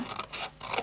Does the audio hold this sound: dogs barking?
no